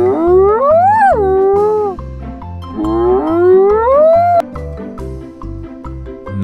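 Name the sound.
hyena call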